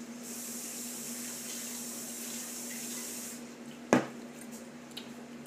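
Kitchen tap water runs steadily in a sink while making a smoothie, a soft continuous hiss that stops partway through, followed by a sharp knock or clunk and quiet room sound.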